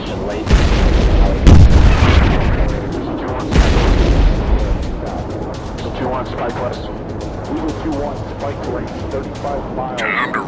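Combat Air Jet video game battle with a Ukrainian MiG-21. Several loud booming explosions and bursts of gunfire come early, then fade into rumbling crackle, with radio-style voices talking throughout.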